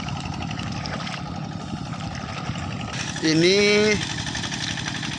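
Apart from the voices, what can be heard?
Kubota RD85 diesel engine on TL800 hand tractor running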